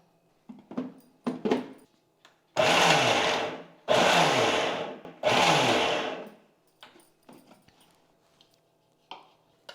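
A mixer grinder runs in pulse mode on moringa leaf podi with jaggery: three loud, roaring bursts of about a second each, separated by short pauses, with small clatters and knocks before and after.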